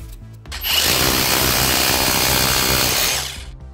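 A Chinese-made rotary hammer drill pounds into a brick, a loud, continuous hammering roar that starts abruptly, holds steady for a few seconds, then cuts off.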